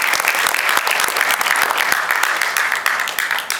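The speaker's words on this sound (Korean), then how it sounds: "다시 한번 큰 박수 부탁드립니다." Big round of audience applause at a Korean association president's inauguration and officer appointment ceremony, sustained, dense clapping from many hands, loud and continuous from start to finish.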